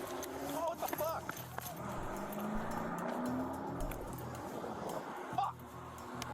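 A police patrol car pulls away, its engine rumbling low beneath steady talking voices throughout.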